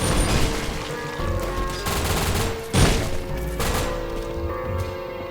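Rapid, dense gunfire from a shotgun and pistol in a gory boomer shooter video game, with continuous booming blasts and crashes filling the whole stretch, loud and unbroken.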